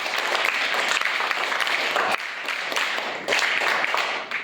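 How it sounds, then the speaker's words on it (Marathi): Schoolchildren at a village primary school quiz applauding a student, a dense burst of many small hands clapping close by for several seconds, fading slightly then swelling again before tapering off. "सगळ्यांनी टाळ्या वाजवा"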